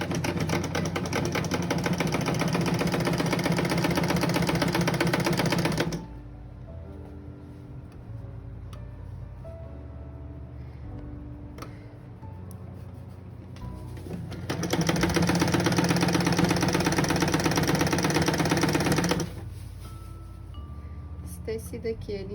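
Domestic sewing machine stitching a cotton knit fabric apron with a backstitch, running in two loud sustained bursts of rapid mechanical whirring separated by a quieter pause with a voice talking.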